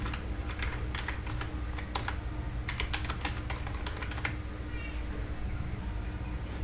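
Keys clatter on a computer keyboard as a search is typed, in quick irregular bursts of clicks over a steady low hum, fairly close with no talking.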